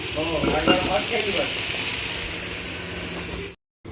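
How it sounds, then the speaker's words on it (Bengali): Nakshi bori lentil dumplings frying in plenty of oil in a home kitchen, a steady close crackling sizzle with some scraping stir noises throughout, cut off abruptly near the end. "এই যে এখন আমার নকশা বড়ি ভাজা হচ্ছে"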